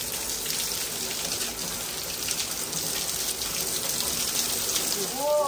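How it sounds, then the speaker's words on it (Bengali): Heavy storm rain pours in London, a dense, steady hiss filling the whole stretch, with a faint voice surfacing near the end. "আমি লন্ডনে এই প্রথম মনে হয় এত ঝড়ে বৃষ্টি দেখলাম"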